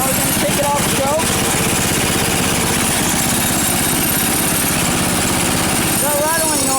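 An Ariens two-stage snowblower engine idles close by with a steady throbbing putter and some rattle, while someone talks over it as the throttle is eased toward its lowest idle.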